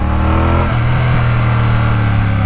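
A 2024 Triumph Bonneville T120 motorcycle engine runs at low RPM, a loud, close, steady droning rumble with a slight shift in pitch partway through, alone without speech.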